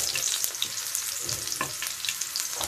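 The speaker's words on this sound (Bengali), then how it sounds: "তো আমি ফ্রাই প্যানে দিয়ে দিচ্ছি পেঁয়াজ কুচি এবং তেল।" Chopped onion frying in oil in a frying pan, a steady close sizzle with crackling bursts and occasional stirring scrapes, no talk.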